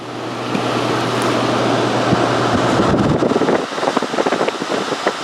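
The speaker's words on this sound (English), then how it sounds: "All right, so now we get these blowers on here." Blower fans set up to dry the interior of a 2012 Jayco Feather RV give a loud, steady roaring rush of air, with a few brief clicks and knocks in the last seconds.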